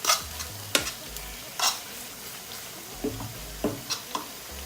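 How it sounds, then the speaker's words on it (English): Plantain fries in a pan with a soft, steady sizzle, joined by several scraping stirs and light clinks of a utensil, fairly quiet and close, for a Nigerian fried egg and plantain dish. "Our plantain is sizzling."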